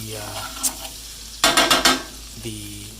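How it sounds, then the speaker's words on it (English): Butter sizzles in a hot pan for chicken marsala while a utensil gives a short burst of four or five sharp scraping, clattering strokes, close and loud, then the frying settles back to a quieter hiss. "just tossed in the butter. Let's give it a little mix around"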